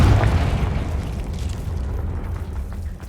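The Confringo explosive spell in Hogwarts Legacy sets off a heavy, close explosion: a loud low boom that rumbles and slowly fades over a few seconds.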